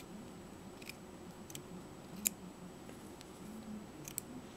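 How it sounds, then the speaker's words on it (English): Faint, sparse snips and clicks of scissors cutting crochet yarn in a quiet room, one sharper snip standing out among the soft ticks. "then I grab my scissors and I cut my yarn"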